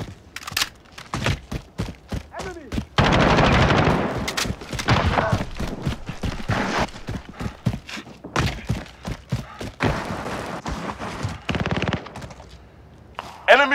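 Call of Duty Modern Warfare team deathmatch gunfire: rapid automatic bursts and single shots crackle loudly and repeatedly across the whole stretch, with shouted in-game voice callouts mixed in.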